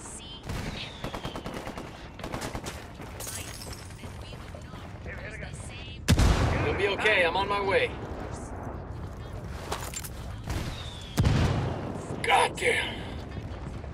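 Gunfire from the video game Ghost Recon Wildlands on PS5 sounds in several sharp, loud cracks, including a heavy shot around the middle, amid busy game ambience and talking voices.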